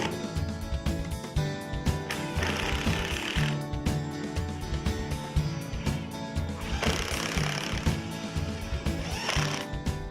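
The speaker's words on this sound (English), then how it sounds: "Be sure to install a screw in every pre-drilled hole." A power driver sinking screws into the pre-drilled holes of a Pella sliding patio door's knock-down frame, with two long buzzing bursts of whirring and rattling against steady mechanical clatter and faint background music.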